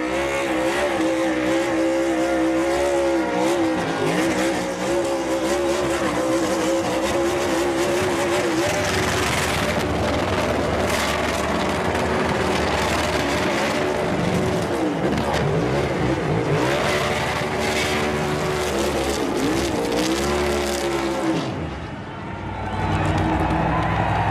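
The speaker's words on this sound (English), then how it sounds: "he's going to burn it down in his first Cup start here in wine country" A NASCAR Cup Series race car does a burnout at the wine-country road course, its loud engine roaring steadily for over twenty seconds amid tire noise, with crowd and commentary voices underneath before a brief dip near the end.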